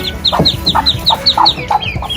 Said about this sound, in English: Is that the mama duck so mad?